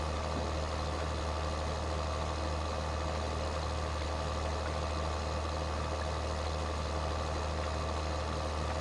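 A tractor engine in Farming Simulator 2013, pulling a seeder during planting. It holds a steady low diesel drone with an even, unbroken hum throughout.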